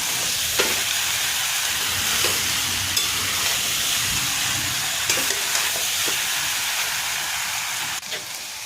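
Goat meat sizzles steadily in a hot pan, a loud continuous frying hiss with occasional stirring clatters and a faint voice at times.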